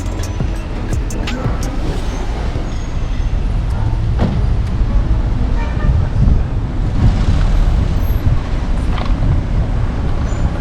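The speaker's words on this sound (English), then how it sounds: "Those trolley buses runs on electric and they are very organized." Electric trolley buses and other traffic rumble along a busy Almaty street at night, a dense, steady roar of passing vehicles close by, with a few faint clicks and no clear speech.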